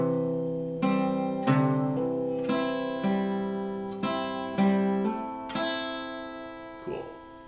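Slow acoustic guitar picking of a song's intro measure, single notes plucked one at a time roughly every second, each ringing out and decaying, clear and close with no voice.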